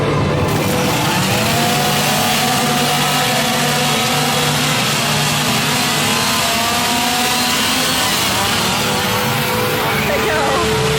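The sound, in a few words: chainsaw at Halloween Horror Nights scare zone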